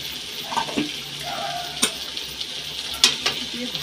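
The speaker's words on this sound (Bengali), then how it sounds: "দিয়ে ভালো করে কষিয়ে নিতে হবে মাংসটা।" Meat sautéed with spiced water in a pan, steady sizzling broken by sharp spoon scrapes and clinks against the metal, close and alone.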